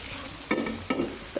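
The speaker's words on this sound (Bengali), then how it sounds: "ফুলকপিটা শুধু পেঁয়াজ, রসুন, কাঁচামরিচ, হলুদ, লবণ দিয়ে ভাজি করতেছি" Cauliflower frying with onion, garlic, green chili, turmeric and salt, a steady close sizzle broken by two quick scraping stirs of a spatula in the pan.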